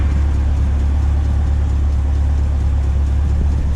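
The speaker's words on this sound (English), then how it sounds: "do y'all hear the little engine noise?" A car engine idles steadily and loudly at a drive-thru, its low rumble echoing off a nearby wall, with no talk over it.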